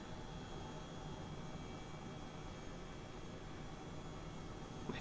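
A helicopter flown in Microsoft Flight Simulator gives off a low, even engine hum mixed with a whining tone and airy hiss, quiet and continuous throughout without voices.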